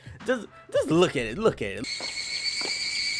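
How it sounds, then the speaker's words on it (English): Cicadas drone in the background of a Makoto Shinkai anime film scene, a steady high shrill buzz that takes over after a voice stops speaking. "you hear the cicadas in the background"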